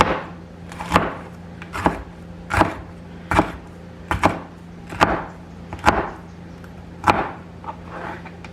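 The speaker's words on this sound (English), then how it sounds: "now we're just going to cut them into strips" Knife slicing washed ingredients into strips on a cutting board while making Puerto Rican rice with pigeon peas, a steady series of about ten crisp, close chops at even spacing, with no talking.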